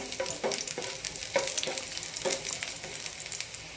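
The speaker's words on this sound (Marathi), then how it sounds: "हे स्लाइस केलेल्या लसणाच्या पाकळ्या टाकून घ्यायचे, त्याला थोडंसं फ्राय करून घेऊ" Sliced garlic cloves fry in olive oil, a close, continuous sizzle broken by repeated clinks and scrapes of a spoon stirring the pan.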